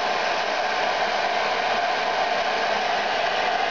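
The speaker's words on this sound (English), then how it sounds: "put it under the low heat of a hair dryer to bend it into the shape you want." A hair dryer on low heat, used to soften and bend a diorama part, blows with a loud, steady, close-up whoosh that runs unbroken and alone.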